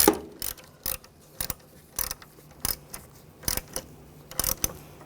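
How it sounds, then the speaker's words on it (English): The battery terminal on a 2011-2015 Chevy Cruze is tightened with a ratchet, giving short bursts of crisp clicking at an irregular pace, close and fairly quiet with pauses between. "Now connect the battery and snug down the terminal."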